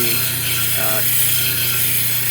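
A gray shell piece ground on a 320 grit wheel for a pendant gives a continuous, loud grinding whir with a steady motor hum, close and unbroken throughout.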